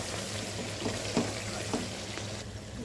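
Tomato and cashew paste sizzling and frying in a pan for Mughlai handi chicken, a steady low crackle with a few soft stirring scrapes, close by and without speech.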